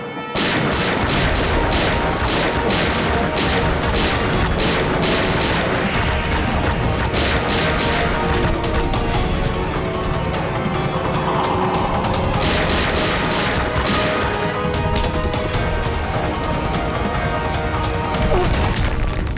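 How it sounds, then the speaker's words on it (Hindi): Cartoon shootout with dense, loud gunfire and booming blasts layered over a busy soundtrack, continuous for the whole stretch with bursts of rapid shots. "राजन्स, फायर"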